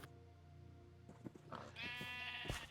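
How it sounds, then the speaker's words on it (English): A sheep bleats in Minecraft, a short faint cry near the end over quiet game sounds, with no talk. "And I found you sheep."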